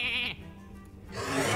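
A sheep bleats in the Hearthstone card game, a short, wavering, nasal cry that rises and then breaks off, followed by a brief burst of game noise.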